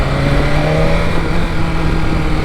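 A 2025 BMW S1000RR engine drones steadily and loud at close range with a continuous low hum and constant wind rush, holding an even, unbroken tone throughout.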